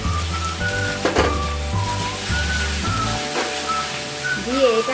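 Ground spice paste sizzling in a pan with onions fried until reddish, a steady crackling fry under background music with a low hum throughout.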